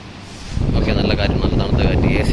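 A steady whooshing hum of a three-speed oscillating pedestal fan running, the airflow rising after a moment and staying broad and constant, with faint clicks over it.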